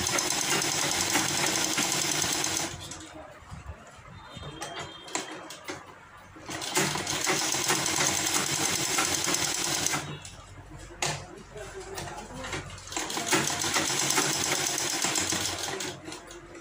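A sewing machine stitches along the edge of a kurti's half collar, running in three bursts of rapid close whirring separated by short quieter pauses.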